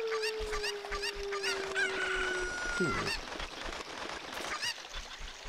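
In Zelda: Ocarina of Time, a chicken lets out a rapid run of clucks and squawks, with one drawn-out cry near the middle, set over game music and ambient noise.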